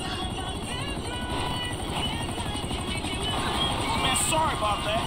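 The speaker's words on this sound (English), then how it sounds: "I know I heard a helicopter." A helicopter's rapid rotor chop in Grand Theft Auto V drones steadily throughout, loud and close, with game ambience and faint voices beneath.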